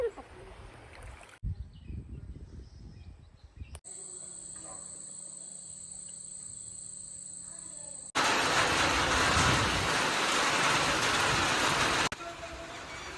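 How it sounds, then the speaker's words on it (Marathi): Steady hiss of rain pouring down in a village near a river, with insects chirring in quieter stretches and a louder, denser downpour burst later. "पावसाची दडा मधीच अचानक येतं आणि सगळा ओलाचिंब करून टाकता"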